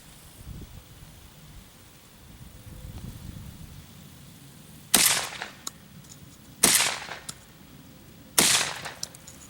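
Three loud, sharp shotgun blasts from a Beretta A400 Xplor semi-automatic shotgun, spaced about two seconds apart outdoors, each with a short echoing tail, after a quiet stretch with faint low rumble.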